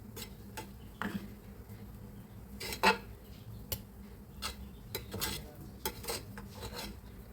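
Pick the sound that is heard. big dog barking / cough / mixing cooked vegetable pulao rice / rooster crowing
mixing cooked vegetable pulao rice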